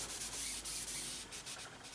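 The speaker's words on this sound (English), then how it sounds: "just give the bed a good wipe, just to make sure that there's no real oil residue down in any of the crevices" A cloth wipes across a metal machine bed during rust removal, clearing oil residue from the crevices; a steady, close, continuous rubbing hiss with brief pauses between strokes, no voices.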